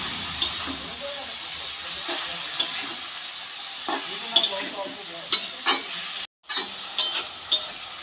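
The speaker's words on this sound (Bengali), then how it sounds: "পেঁয়াজ কাঁচা লঙ্কা দিয়ে শাকটাকে ভালো করে নেড়ে নেব।" Mustard greens with onion and green chilli sizzle in hot oil as they are stirred, with scraping strokes against the pan over a steady hiss, close up; a brief dropout near the end.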